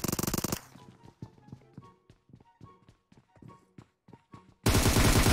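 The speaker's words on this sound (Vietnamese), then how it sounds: "Bắn nhau bên này." Gunfire exchange in the mobile battle royale PUBG Mobile, a rapid string of sharp, short reports in uneven bursts at mid distance, set between loud bursts of noise at the start and end.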